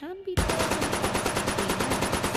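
An AK-style assault rifle in the VR game Medal of Honor: Above and Beyond fires a steady, fast automatic stream of close, loud shots after a brief spoken word.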